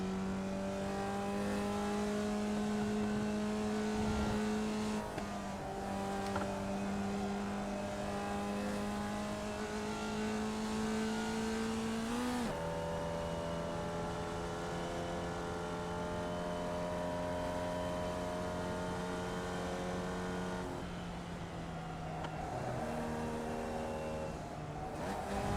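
Race car engines in iRacing, a loud sustained close engine drone held at steady revs, with pitch drops at gear changes and a brief rise and dip as the car brakes and accelerates, with no talk.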